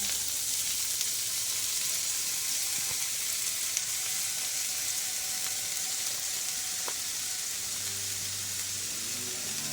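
Bell peppers frying in hot oil, a steady soft sizzle and hiss with faint stirring clicks, continuous and fairly quiet.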